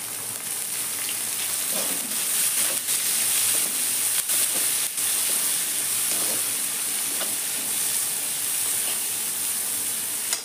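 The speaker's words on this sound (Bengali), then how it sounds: "এখন দিয়ে দেবো পাতাকপি" Shredded cabbage sizzles loudly and continuously in a hot wok still darkened from frying chicken for chowmein, with occasional stirring scrapes and no talking.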